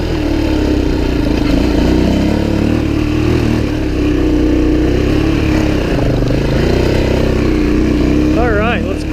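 A Suzuki DRZ400e dirt bike climbs a hill under steady load, its engine droning loud and close throughout, with a brief rising whine near the end.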